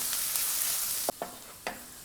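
Onions with chopped ginger and a green chili sauté in a pan, a steady hiss of frying that briefly drops out, followed by a few sharp spatula scrapes against the pan. No talking.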